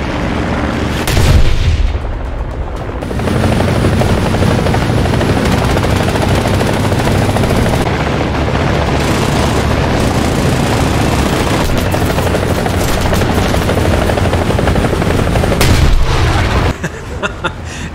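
Modern helicopters flying in the combat game War Thunder, with a steady loud rotor and engine drone running through nearly the whole stretch, broken by a few brief booms and bursts of gunfire, in a fight against a swarm of biplanes.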